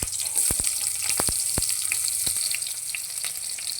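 Onions dropped into hot cooking oil for salmon sinigang give a loud close sizzle, with several sharp crackles and spatters near the start, then a dense hiss that carries on alone.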